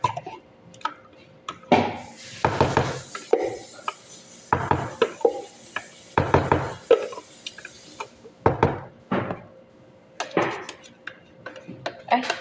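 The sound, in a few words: washing dishes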